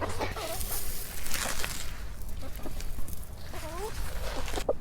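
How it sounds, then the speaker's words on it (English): Several chickens cluck and chatter nearby while being fed corn, with soft rustling and scratching sounds, and a person speaks briefly. "I'm going to feed the chickens here some corn."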